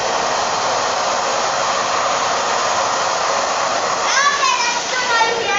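A new vacuum cleaner runs close by with a loud, steady whooshing roar, and a rising whine enters near the end.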